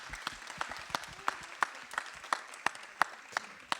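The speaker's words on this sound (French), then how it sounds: "Vous pouvez les applaudir." Small audience at a school prize-giving clapping faintly and sparsely, with distinct individual claps spread across a few seconds.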